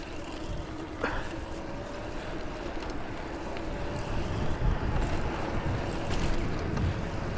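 Bafang BBS02 mid-drive e-bike accelerating outdoors, with steady wind noise buffeting the microphone and a faint motor whine rising beneath it, with no talking.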